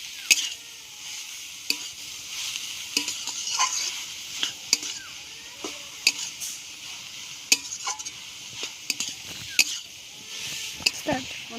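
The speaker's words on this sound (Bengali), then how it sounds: "বন্ধুরা কপি আলুটাকে মশলার সঙ্গে ভালো করে মিশিয়ে নেব।" Cabbage and potatoes being stirred with spices in a pan, quiet scraping and clinking of a spoon against the pan in irregular strokes over a faint sizzle, fairly close.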